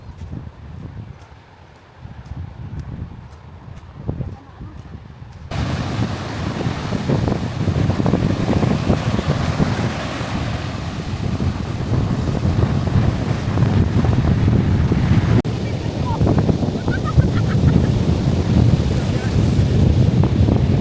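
Waves and wind at Verde Beach, with heavy wind buffeting the microphone over continuous surf that grows louder after the first few seconds, a constant, close roar.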